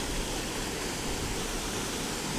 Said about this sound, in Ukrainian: водопад такий розлився